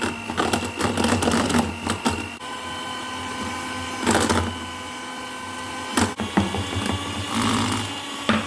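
An electric mixer whirs steadily while beating meringue for a Bûche de Noël as superfine sugar is spooned in slowly, its motor drone holding close and even with brief clinks and surges from the bowl.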